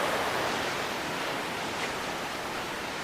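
Fast-flowing river water at a rocky campsite stream in Sahom Valley, Kampar, Perak, a steady broadband rush close by with no voices.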